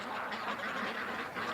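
Ducks quack faintly by a creek in a soft, continuous run of raspy calls with no voices over them.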